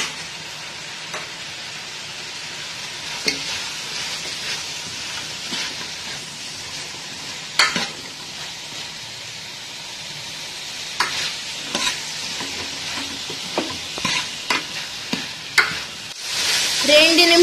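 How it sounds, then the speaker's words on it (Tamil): Mixed vegetables for veg kurma sautéing in a pan with onion and tomato, a steady soft sizzle with occasional stirring scrapes and clicks, close and moderately loud, no talking. "ரெண்டு நிமிஷம் இதை வதக்கிட்டு தேங்காய் அரைச்சதை நம்ம இதுல ஊத்திடணும்"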